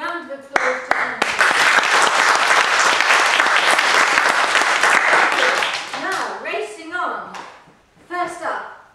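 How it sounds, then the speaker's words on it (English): An audience bursts into a round of applause at a Toastmasters-style evaluation meeting, dense clapping sustained for several seconds before fading, with voices speaking around it at the start and end. "give a little round of applause to Angela"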